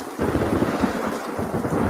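A thunderstorm with rain: a dense, rumbling wash of downpour and low thunder, loud and continuous throughout, with no voices.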